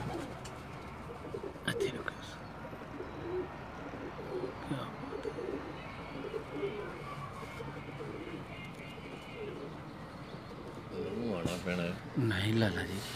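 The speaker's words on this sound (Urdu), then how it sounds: "ابھی یہ بریڈر کبوتر ہیں ان کے" Breeder pigeons coo in low, repeated calls close by, running through the whole stretch beneath near-constant talking, with a louder burst of cooing and movement near the end.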